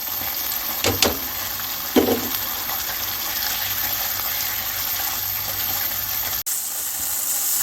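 About half a cup of water is poured into a pan of peas with fenugreek and fried spice paste on a kitchen stove, making a steady gushing, sizzling splash with a couple of clinks at the start.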